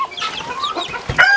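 A silkie hen with some brain damage clucks softly nearby in a short run of low, murmuring calls.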